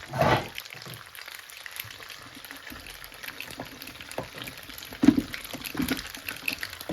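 Pecorino cream is poured into a hot pan for rigatoni alla gricia, giving a wet, bubbling pour and sizzle with a louder splash at the start and scattered spatters later.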